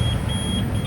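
The alarm system on a Boss Electraze e-bike sounds a steady high-pitched electronic tone that holds on without a break, loud and close, over a low rumbling background.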